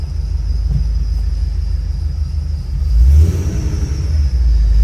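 A 2008 Shelby GT500 engine rumbles at idle close by, then swells into a louder rev near the end and settles back to a deep, steady drone.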